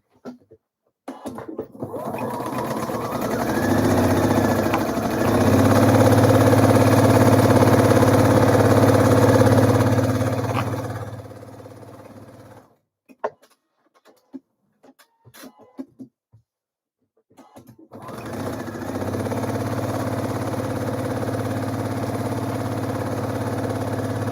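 A sewing machine stitching blouse seams at 1.5 centimetre seam allowance, a steady close motor whir for about ten seconds, then handling clicks, followed by an overlocker running in a second sustained burst.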